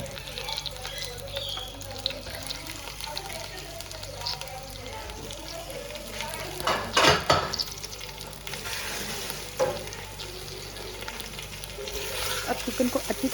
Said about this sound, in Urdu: اب چکن کو اچھی طرح سے فرائی کرنا ہے، تب تک فرائی کرنا ہے جب تک چکن کا کلر چینج نہ ہو جائے۔